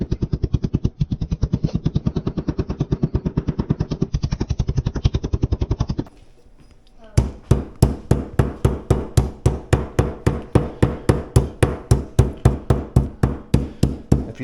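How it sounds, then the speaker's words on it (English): A meat tenderizing hammer pounds deer inner loin in a fast, steady run of loud, close impacts, with a short pause midway before a second run of sharper, evenly spaced blows. "If you don't have one of these tenderizing hammers, you can use a can of corn or a can of green beans."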